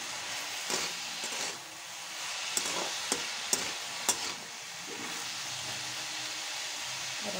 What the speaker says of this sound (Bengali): ঢাকনাটা খুলে দিয়েছি, এবার একটু নেড়ে দেবো।